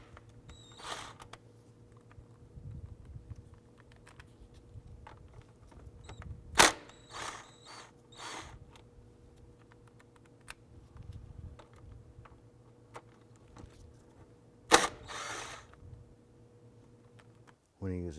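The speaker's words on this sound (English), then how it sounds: "Remove these 3 8mm bolts." Three 8mm bolts being removed from the engine of a 2001-2007 Ford Escape, quiet ratcheting clicks and metallic ticks with a couple of sharp snaps, close up over a faint background hum.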